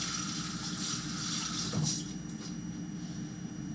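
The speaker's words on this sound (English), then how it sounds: "Wash my hands again." Kitchen sink tap running steadily while hands are washed, a continuous broadband water rush at moderate level with a brief splash surge partway through.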